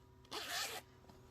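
A single short zipper pull on a small sewn fabric pouch, a quick close rasp lasting about half a second against a quiet room.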